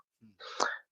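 A single short human sneeze, a brief intake followed by a sharp burst, close and alone.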